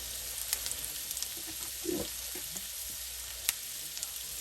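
Bottle gourd peel fries with coriander and cumin powder in a pan, giving a quiet continuous sizzle broken by occasional stirring scrapes and clinks.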